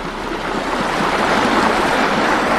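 A river flows through a forest with a steady, dense rush of water, close and continuous, with no voices.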